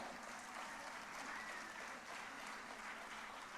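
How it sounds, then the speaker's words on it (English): Steady applause fills a school annual day prize ceremony as an audience cheers a student prize winner, a dense continuous clapping that holds evenly throughout without breaks. "Please give her a loud cheer."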